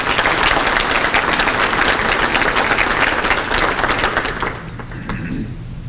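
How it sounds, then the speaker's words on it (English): Loud, dense audience applause breaks out at a county economy address, sustained clapping from a large crowd that fades somewhat in the last second or two. "That deserves a round of applause."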